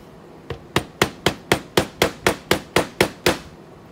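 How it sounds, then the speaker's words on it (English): Steady hammering of clay pressed into a sand-casting mold, about a dozen sharp, evenly spaced blows that grow slightly louder, close by with nothing else in the background. "Hammer it."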